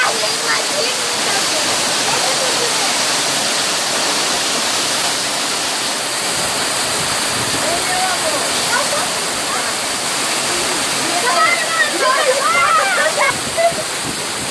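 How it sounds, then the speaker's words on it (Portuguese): A waterfall in Serra do Tepequém, Roraima, with cold water: a loud, steady rush of falling water fills the whole stretch, and voices talk over it from time to time. "Essa cachoeira é linda, gente."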